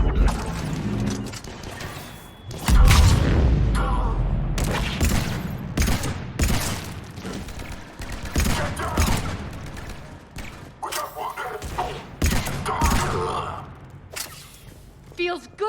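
Defense troops in the video game Mass Effect open fire, a burst of rapid gunshots cracking over a loud low boom, followed by scattered shots and mechanical clatter while game voices talk throughout.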